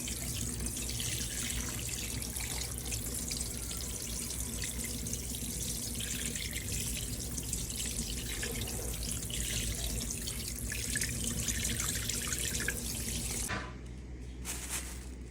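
Fish is washed under a running tap after a trip to a fish market, with a steady close rush of water splashing into a sink that cuts off near the end.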